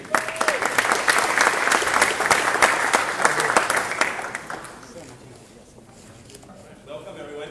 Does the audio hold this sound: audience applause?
yes